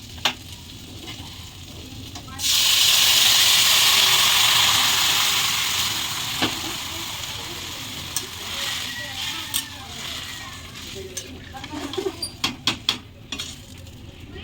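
Water poured into a hot pan of oil with fried tilapia fish erupts into a loud hiss that slowly fades into a softer sizzle, followed by a few light clinks of a utensil as someone speaks.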